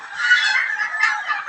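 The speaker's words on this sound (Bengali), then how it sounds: "12 দিন বয়সী চীনার হাঁসের বাচ্চা, কি সুস্থ সবল বাচ্চা।" Twelve-day-old Chinese goose chicks on a farm give a loud, continuous chorus of high, overlapping honks and peeps close by.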